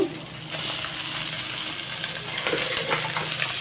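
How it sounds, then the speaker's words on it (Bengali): Washed rice pours into a pot of hot tempering spices for khichuri, producing a steady close rushing hiss that continues without pause or talk. "তো এখন আমি চালগুলোকে দিয়ে দিচ্ছি"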